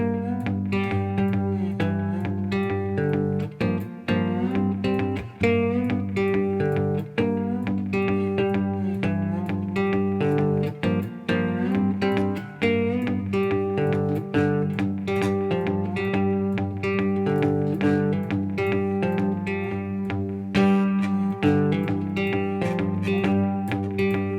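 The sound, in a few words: cigar box guitar blues shuffle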